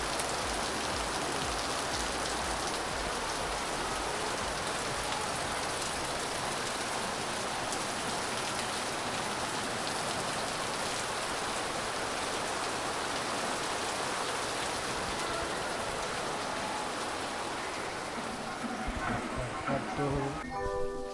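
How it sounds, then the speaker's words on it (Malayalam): Heavy rain pours down steadily, a dense loud hiss of drops on surfaces filling the whole stretch, with a few clattering knocks near the end. "ഇപ്പം നല്ല മഴയാണ് കേട്ടോ"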